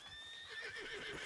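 A horse in the Red Dead Redemption 2 video game gives a faint, brief whinny, set against steady ambient game sound with no talk.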